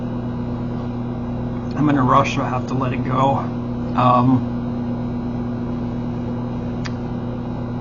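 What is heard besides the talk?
microwave oven running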